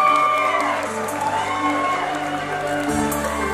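Pageant audience at Mister Supranational Thailand 2019 claps and cheers steadily for a contestant, a dense wash of crowd noise with music-like tones running underneath.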